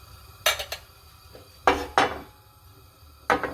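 In a kitchen making turon, leftover brown sugar goes into a frying pan with a few loud, close clanks and scrapes of a utensil against the metal pan, coming in separate bursts with pauses between.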